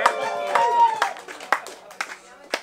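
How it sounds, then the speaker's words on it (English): An audience claps in scattered, rhythmic bursts for the second-place winner of a boat race at an awards gathering, with loud voices calling out over the claps. "everybody clap for Jerry, but not for Diego"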